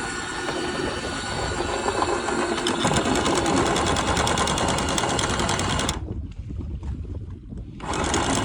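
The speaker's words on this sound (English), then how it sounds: "when you hear that windlass load down like that" A boat anchor windlass motor aboard a 32 Cutwater saltwater boat whirs loud and steady, then drops lower and strains as it loads down, with a near-constant mechanical drone over engine and water noise.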